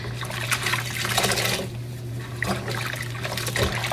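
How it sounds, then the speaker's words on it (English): Water swishing and trickling in a dish pan mixed with dish detergent, a continuous close splashing with a faint steady hum underneath and no speech. "make sure the water is nice and soapy."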